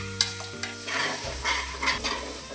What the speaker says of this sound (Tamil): அரைச்ச பருப்பை வதக்கும் போது கொஞ்சம் சிம்மில் வச்சு வதக்குங்க.